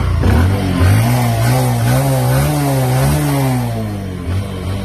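A motorcycle engine runs in neutral at a bike gallery in Mymensingh Sadar, Bangladesh. It gives a steady, loud mechanical drone close by, with the pitch rising and falling slightly as it idles and gets a light rev. No one speaks.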